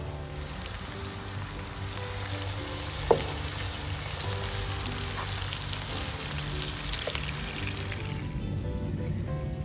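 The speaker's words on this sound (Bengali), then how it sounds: "পেঁয়াজ আছে রসুন আছে পাঁচ ফোড়ন আর শুকনা মরিচ পাতলা করে কেটে নিয়েছি লবণ দিয়ে ভেজে নিচ্ছি" Thinly sliced onion, garlic, Bengali five-spice and dried chili fry with salt in a pan, giving a steady, close sizzle with a few small pops throughout.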